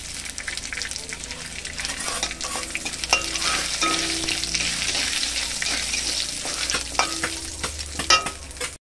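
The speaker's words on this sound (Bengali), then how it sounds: "আমি চিংড়ি মাছ ভাজার তেলে আরেকটু তেল দিয়ে আমি সব কিছু রাঁধুনি, শুকনো লঙ্কা, তেজপাতা ভেজে নিলাম।" Dried red chili, bay leaf and radhuni seeds frying in oil left from frying prawns, a continuous sizzle with frequent scraping stirs of a spatula in the pan, close and fairly loud, no talking.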